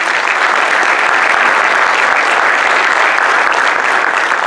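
Steady, dense applause from an audience at a political panel on the working class in crisis, a continuous roar of many hands clapping without a break.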